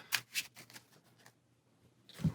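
Playing cards are shuffled during a Marvel Champions card game, a few quick, close riffling bursts separated by short pauses, then a soft thump.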